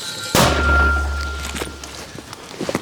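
One powerful firing crack from a Ukrainian-made mortar near Vuhledar near the start, followed by a deep, lingering rumble that slowly fades, with small knocks afterward.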